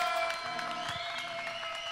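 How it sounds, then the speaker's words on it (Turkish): Applause and crowd noise at a Turkish wedding celebration, a steady wash of clapping and cheering from a room full of guests, moderately faint and continuous throughout. "Alkış."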